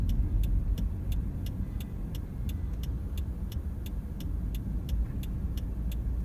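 Steady road traffic rumbles past a car waiting to turn left during a California driving test, a continuous low drone with a faint regular ticking, likely the turn signal.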